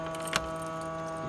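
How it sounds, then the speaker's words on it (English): A bunch of locker keys jangles in two quick metallic bursts close to the mic, over a steady low background hum. "And then this is for these keys for the locker."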